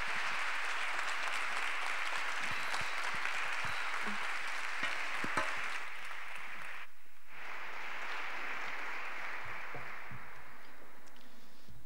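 An audience at a formal presentation in a conference hall applauds continuously for about twelve seconds, a dense even wash of clapping that dips briefly near the seven-second mark and then resumes, with no speech over it.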